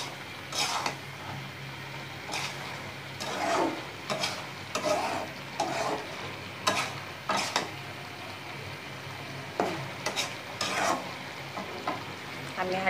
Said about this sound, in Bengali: আমি তরকারিটা কষিয়ে নেব।